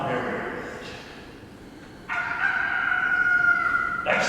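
Roosters crow at daybreak, one long cock-a-doodle-doo near the start and a louder, closer, sustained crow from about the middle, with a further call beginning at the end, all carrying over steady background noise.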